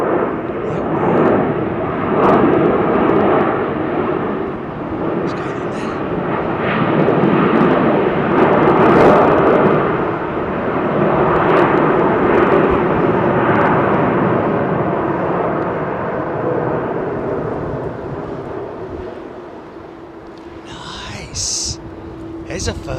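A Turkish Airlines Boeing 777 in special livery doing a touch-and-go at London Heathrow, its broad jet roar loud and sustained throughout, with voices talking over it.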